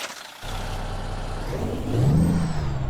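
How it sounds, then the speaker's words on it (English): A Freightliner Argosy truck in American Truck Simulator with Kriechbaum engine sounds rumbles up from a start, its low engine note rising steadily as it revs and accelerates, close and alone without talk. "Yes, those are Kriechbaum sounds, finally on the Freightliner Argosy."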